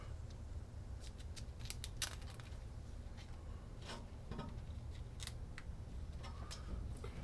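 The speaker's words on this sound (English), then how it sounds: "I'll go ahead and try to trim this piece off." Iridescent window film on a garage window is trimmed with a blade in a series of faint, brief slicing snips and scrapes over a quiet background hum.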